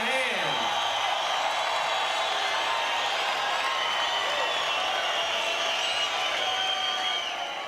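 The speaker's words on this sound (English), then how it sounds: "Give yourselves a hand." A large arena crowd in Lake Charles, Louisiana applauds and cheers at a 1999 UFC event, a dense steady roar of clapping and whoops that holds loud throughout before easing slightly at the end.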